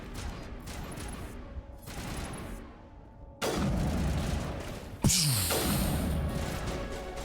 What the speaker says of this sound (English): I never use a sniper rifle, man, but the sound of it, man. Oh, the thud.